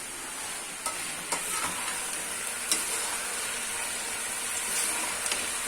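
Chicken keema stir-frying in a pan, with a steady bright sizzle and a few louder scrapes and stirs at intervals, alone without talk.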